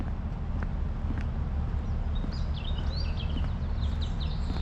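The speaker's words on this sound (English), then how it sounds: "how peaceful is it where you can just hear the birds" Birds sing outdoors at a dark, quiet roadside stop at night during a drive from Bridgend to Chorley. Sparse, faint chirps and trills float over a constant low hum.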